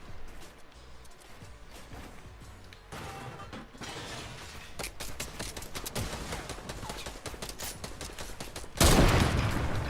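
Sniper and other gunfire in a Fortnite Battle Royale match, a dense stretch of shots and impacts building in intensity, with a louder burst near the end.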